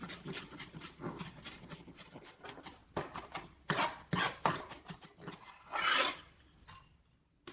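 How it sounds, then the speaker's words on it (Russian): A knife finely chops white onion on a board for guacamole in quick, uneven bursts of crisp strokes. Short pauses separate the bursts, and the sound is close and fairly quiet. "Очень мелко нашинковать белый лук, традиционно используемый для гуакамоле в Мексике."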